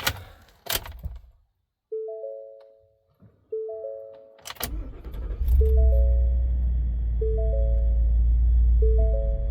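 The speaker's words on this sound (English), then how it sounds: "Fires up beautifully, runs and drives beautifully" A 2022 Ford F-250 work truck engine cranks briefly and fires up, settling into a steady, loud idle that continues to the end, with clicking and chiming cabin tones repeating over it.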